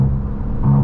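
A BMW 530e M Sport G30 LCI plug-in hybrid accelerating hard, a brief smooth low engine rumble swelling slightly toward the end, heard alone.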